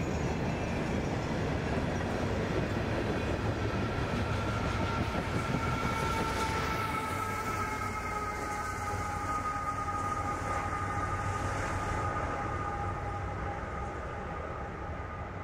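CSX freight train rolling past on the old L&N CC subdivision, a steady broadband rumble and rattle of cars throughout with faint wheel squeal, gradually easing toward the end.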